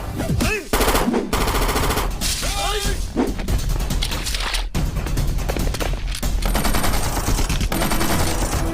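Gunfire fills an action scene in a South Indian film, with dense bursts of rapid shots, crashes and thuds layered over background music and effects. Loud and continuous throughout.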